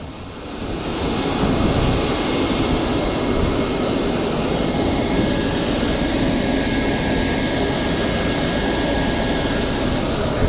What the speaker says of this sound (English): This would be the aircraft flying me back to Melbourne, the exact same aircraft that just flew me here.